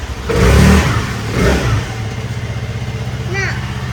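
A motorbike engine revs while a father takes his child for a short ride, a mid-pitched pulsing drone that runs steadily under people talking near the mic.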